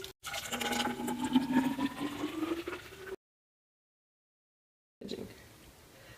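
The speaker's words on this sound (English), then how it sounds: "I'm going to put it into my big jug" Thick blended pasta sloshing and gurgling as it pours steadily into a big jug, a close, continuous liquid stream for about three seconds, then a gap of silence and a softer trickle afterward.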